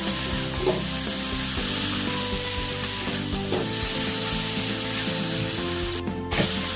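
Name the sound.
frying fried potato and pointed gourd in spices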